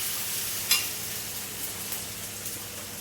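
Tomatoes frying in a pan on a gas stove sizzle steadily under a faint hiss, with a sharp scrape of stirring and a few soft clinks as they are lifted out.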